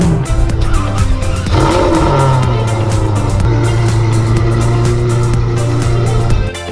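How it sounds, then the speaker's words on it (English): A Ferrari F12 with a full IPE aftermarket exhaust idles and revs with a deep, raspy exhaust note, loud and close, holding a steady rumble throughout, in Monaco. "The reason they sound so good is because they're fitted with a full IPE exhaust system."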